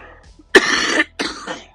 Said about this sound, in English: Still have a nasty cough.